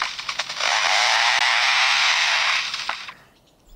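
A lyrebird mimics a logger's chainsaw with a loud, sustained buzzing rasp that holds for about three seconds before cutting off abruptly into near silence.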